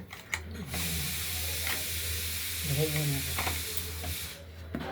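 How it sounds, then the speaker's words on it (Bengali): Boal fish rubbed with salt and turmeric fries in hot oil in a wok, giving a steady close sizzling hiss throughout, with brief bursts of speech over it. "নুন বা লবণ দিয়েছি, আর হলুদ দিয়ে মাখিয়ে মাছটা ভেজে নেব।"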